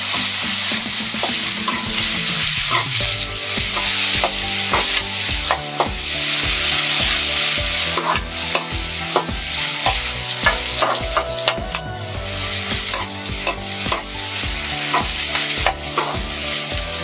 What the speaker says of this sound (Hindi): कढ़ाई हो गई है गरम, अब इसमें हम डाल देते हैं प्याज। प्याज को थोड़ी भुजा देते हैं।